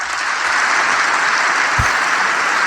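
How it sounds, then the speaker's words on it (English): Steady applause from an audience fills the moment, dense and continuous at close range with no voices on top. "Hey, where's the applause?"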